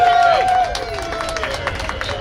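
Audience applause for New York City Comptroller Brad Lander at an African heritage celebration, loud continuous clapping mixed with crowd murmur and a high whistle-like tone at the start.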